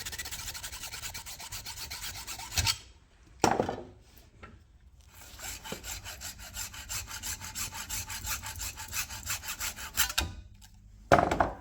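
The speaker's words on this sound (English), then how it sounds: "I make vertical cuts and then horizontal cuts, slowly nibbling away until we get our pick shape roughed out" Saw rasping through acrylic while roughing out a homemade lock pick shape, steady back-and-forth strokes running for several seconds at a time with short pauses between bursts, close and fairly quiet.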